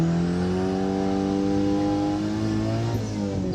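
A turbocharged Honda Civic accelerates hard during a speed test, its loud, droning engine climbing steadily in pitch and shifting near the end, heard close up with no talking.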